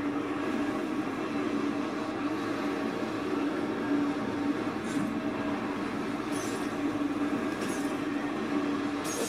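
A train rumbles along steadily for several seconds in the video game Condemned: Criminal Origins, with a constant mechanical drone and faint high squeals from the wheels.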